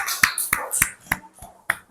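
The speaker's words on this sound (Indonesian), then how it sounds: "Tepuk tangan dulu buat kelompok 1." Children in a classroom clap for the winning group, a handful of sharp, separate claps spaced unevenly over a couple of seconds, with no voices.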